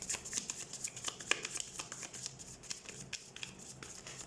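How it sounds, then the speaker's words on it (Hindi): Tarot cards being shuffled by hand close by, a soft, quiet run of riffling and flicking card sounds with small slaps and snaps in an irregular rhythm. "लोग जिस तरीके से कार्ड्स शफल हो रहे हैं ना,"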